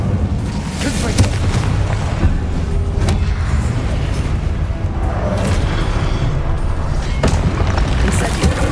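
Spell explosions in Hogwarts Legacy, including the Confringo fire spell, rumble as deep booms and bursts in a dense, continuous battle din. Scattered sharp hits cut through, and a voice speaks amid the noise.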